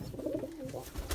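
Fantail pigeons coo in soft, repeated low calls as they flock down to be fed, the cooing steady and close throughout with a brief flutter near the end.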